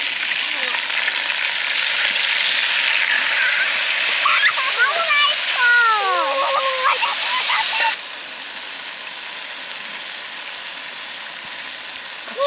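Chicken browning in a camp oven over a fire, a steady loud sizzle and spatter that drops to a quieter hiss partway through, with a voice briefly heard over it.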